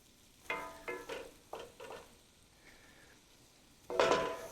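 Smoked sausage sizzles in hot oil in a pan while a spoon stirs and pushes it around, giving several bursts of crackling frying with quieter pauses between and a louder sizzle at the end.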